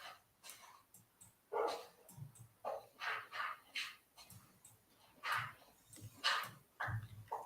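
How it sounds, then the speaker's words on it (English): Wolf barks from the video game Minecraft, a run of short, moderately loud barks repeating in an uneven rhythm over a low background. "So the wolf barked."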